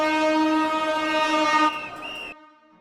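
A train pulls into a station in Cairo, its loud steady horn-like tone droning for over a second, then a rising whistle and brief squeal before the noise drops away sharply.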